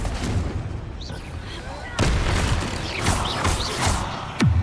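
Confringo spell blasts go off in a video game as a series of booming, crackling explosions at irregular intervals, with a voice speaking throughout.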